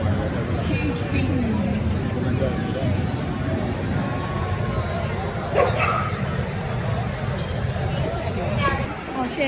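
A dog at an animal expo yips and barks amid a noisy crowded hall, the barks fairly close but partly masked by steady chatter and people talking nearby.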